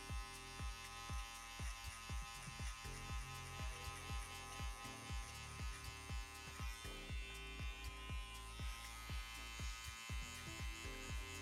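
An electric hair clipper with its lever open hums steadily at close range while cutting a classic taper, pulsing rhythmically with each pass through the hair.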